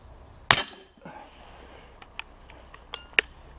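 One loud sharp snap of a Beeman P17 air pistol pellet hitting the target rings out, followed by several small metallic ticks and clinks spaced out over a couple of seconds, no talking.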